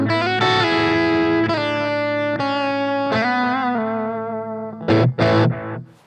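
An electric guitar played through the distortion channel of an Antiquity ATG30 amplifier rings out in sustained, overdriven chords that slowly decay, followed by two short, sharp chord stabs near the end.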